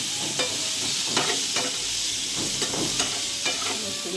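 Ash gourd pieces go into hot oil tempered with chili and five-spice, giving a steady sizzle with repeated scraping strokes of a spatula stirring in the pan.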